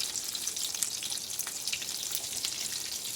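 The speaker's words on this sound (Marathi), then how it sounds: "त्याला दोन्ही बाजूनं त्यामध्ये दोन्ही बाजूने असं भाजून घ्यायचं पलटत राहायचा" Karela pieces roast in a pan with a quiet, even crackling sizzle that holds steady for a few seconds, with faint popping textures and no talking.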